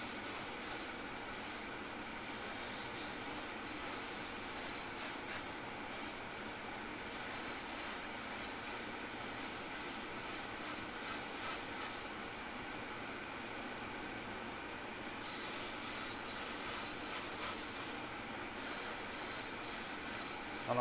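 An airbrush lays a wet coat of Timbertech paint, a soft, close hiss of spray that runs in long passes, broken by a few brief pauses between bursts.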